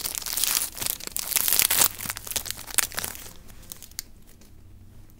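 Pokemon card booster pack from a Tornadus pack tin being torn open close to the mic: crinkly foil crumpling and ripping in quick bursts for about three seconds, then trailing off into faint handling rustles.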